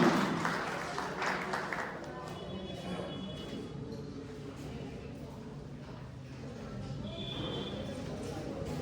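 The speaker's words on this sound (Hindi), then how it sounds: "जोरदार तालियों के बीच में" Audience applause at a girls' library opening event in Bundi, Rajasthan, India: sustained clapping fills the clip at a steady level, loudest at the start, with a hubbub of voices mixed underneath.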